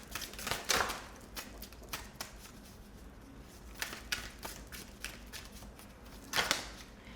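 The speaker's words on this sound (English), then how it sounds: "I'm actually going to shuffle again because this is like a whole chunk of cards" A deck of tarot cards being shuffled by hand: several quick papery riffling bursts with softer taps and slides between them, close and fairly quiet.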